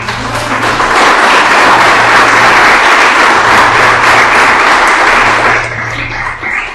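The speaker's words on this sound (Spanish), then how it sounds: "Dale palmas al Rey." A church congregation claps hands together in loud, dense applause that runs steadily for several seconds before tapering off, with a low hum underneath.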